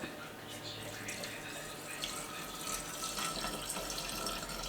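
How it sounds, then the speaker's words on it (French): Water poured into a pot of soup, a faint steady trickling stream with some background room noise. "je vais ajouter 400 g d'eau"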